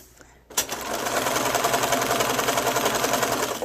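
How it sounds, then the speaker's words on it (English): A sewing machine starts after a brief pause and runs in a fast, continuous mechanical chatter, chain piecing quilt blocks in close, steady stitching. "And then I just sew the next block."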